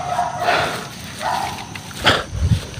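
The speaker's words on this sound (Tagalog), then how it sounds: "Aso dan, may mga aso." Stray dogs bark at a camp, several short separate barks spread over a few seconds at moderate distance, with some scuffling noise in between.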